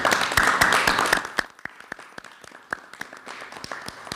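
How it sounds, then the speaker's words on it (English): Applause at a governor's news conference as teacher salary bills are signed into law: a dense burst of many hands clapping for over a second, then thinning into scattered, sparse claps. "Let's give it a round of applause."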